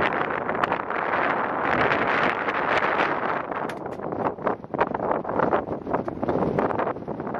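Strong gusts batter the microphone high in Portugal's Serra da Estrela mountains, a loud continuous roar with surging, buffeting bursts and no speech.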